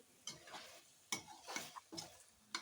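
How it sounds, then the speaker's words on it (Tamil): A spoon stirs mutton in a marinade of turmeric, chili powder, cumin powder, fennel powder and yogurt, giving several soft wet scrapes and clinks against the bowl in an uneven rhythm, quiet and close. "பாருங்க இது மாதிரி நல்லா கிளறி விடுங்க"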